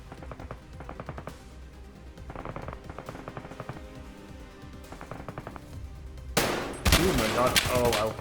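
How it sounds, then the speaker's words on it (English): An AI scav in Escape from Tarkov fires at the player through a wall. Rapid bursts of automatic gunfire sound muffled at first, then sharp, loud close shots crack out near the end. "had a scav start trying to shoot me through a wall"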